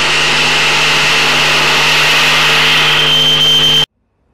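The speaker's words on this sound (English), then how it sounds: "This is the nozzle exhaust of one of the biggest cryogenic engines that we have in ISRO." A cryogenic rocket engine test firing at ISRO roars as a loud, steady, harsh drone with a faint whine, then cuts off abruptly into silence.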